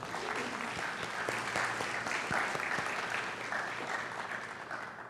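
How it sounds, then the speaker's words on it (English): Sustained audience applause at a university honors colloquium, steady dense clapping from a large crowd lasting throughout, fairly loud and even with no talk over it. "Please, a round of applause for all the above."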